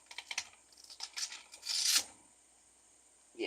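A rock is rubbed on 600 grit sandpaper, making soft, quiet rasping strokes in short bursts, then one longer, brighter scrape, a pause of near silence and a final brief rub, close by.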